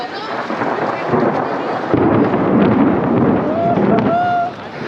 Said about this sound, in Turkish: İnanılmaz gürlüyor gök.